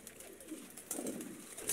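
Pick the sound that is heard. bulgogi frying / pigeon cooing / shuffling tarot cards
pigeon cooing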